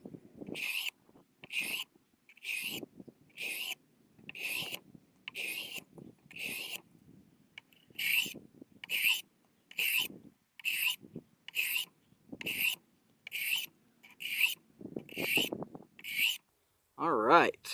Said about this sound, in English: going to take this knife all the way to the polishing stone, the Arkansas stone